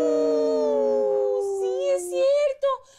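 A person vocally imitates a long, rising howl, like a wolf or dog, sliding up in pitch; the close, loud voice holds for several seconds and breaks into shorter yelping notes at the end.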